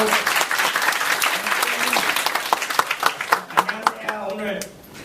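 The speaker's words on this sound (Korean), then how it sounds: "다들 박수로 해주세요" Audience applause at a Korean Android developer lecture event, dense clapping that thins into scattered individual claps and fades near the end, with a voice talking over it.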